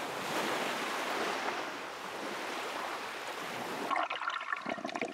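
Ocean waves surge onto the low shore of a Tuvalu island at high-tide season, a loud continuous roaring wash of surf with wind buffeting the microphone, turning to choppy splashing water near the end.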